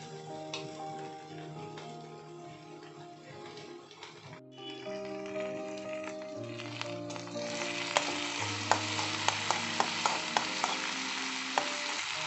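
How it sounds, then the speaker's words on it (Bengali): Grated medium-sized potato frying in a pan sizzles steadily, and the sound grows livelier as it is stirred. Sharp utensil clicks and scrapes come at a quickening rhythm toward the end, close by with no talking. "প্রথমে এই আলুটাকে আমি খুব সুন্দর করে ভেজে নেব"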